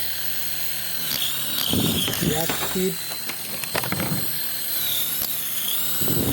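A red remote control toy helicopter under test gives off a thin, steady high motor whine with clicking, ratchet-like mechanical rattles, while people talk close by.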